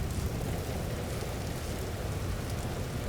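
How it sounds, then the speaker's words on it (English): Steady rain hisses and patters continuously with a low, rumbling undertone, heard inside a house in the video game Vintage Story, no voices present. "Hear the rain?"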